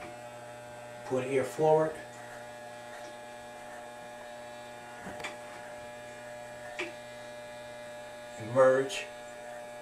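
An electric hair clipper hums steadily and quietly through a home haircut around the ear and nape, a constant buzzing drone beneath a man's brief spoken instructions.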